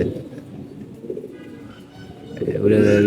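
Pigeons coo on a rooftop pigeon loft, soft repeated calls rising under a steady background of voices and ambient noise, growing louder near the end.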